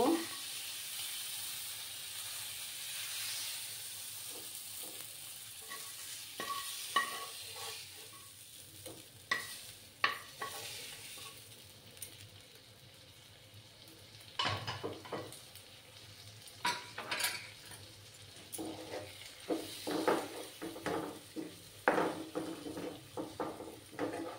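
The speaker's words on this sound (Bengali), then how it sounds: "আমার ফ্রাই করা হয়ে যাচ্ছে। এবার আমি এটার সঙ্গে মিক্স করে দেব।" Masala for egg do-peyaja frying in a pan, with a steady sizzle under repeated scraping and stirring of a spoon against the cookware, and occasional louder clanks.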